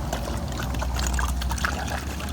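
Liquid is poured into a bottle for a homeschool weather science experiment, a steady close trickle over a low hum, continuous throughout with no voices.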